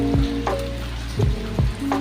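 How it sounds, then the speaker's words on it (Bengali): Hot oil in a kadai crackles and sizzles close up as fish pieces for doi katla fry, broken by several sharp spatula scrapes and taps against the pan. "বন্ধুরা এবার মাছগুলো একটা একটা করে কড়াইতে ছেড়ে দেবো।"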